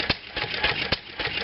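A 1929 McCormick-Deering type M flywheel engine runs on low-octane fuel with an irregular chuffing beat, loud and close, with sharper pops spaced unevenly over a continuous mechanical rumble.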